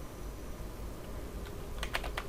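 A few quick keystrokes clatter on a computer keyboard near the end, typing a name into a logo design in Illustrator over a quiet room hum.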